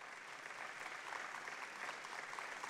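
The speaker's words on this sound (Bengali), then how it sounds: "একটু জোরে হাততালি হওয়া উচিত।" Audience applause at an award ceremony honouring doctors, entrepreneurs and social workers, a steady, even clapping from a hall full of people that holds at one level throughout, with no voices over it.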